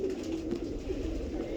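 A grey pigeon coos softly nearby in a low, throaty, rolling murmur, repeating steadily over a faint background hum, with no voices heard.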